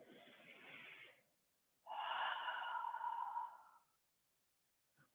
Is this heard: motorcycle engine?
no